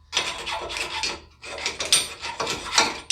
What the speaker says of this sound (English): clean off all the flakes and rust off of this hub